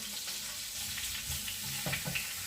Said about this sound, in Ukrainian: Масло розігрілося, додаю поки що тільки цибульку.